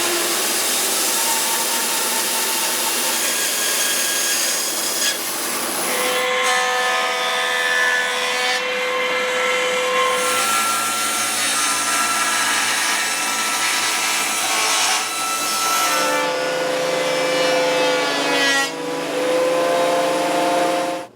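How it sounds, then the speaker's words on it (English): Bandsaw cutting through a thick piece of elm firewood, a loud continuous high-pitched whine and rasp whose tone shifts as the blade bites deeper, running steadily for about twenty seconds. "I may have to use the bandsaw for this because it's a little thicker than what the table saw can handle"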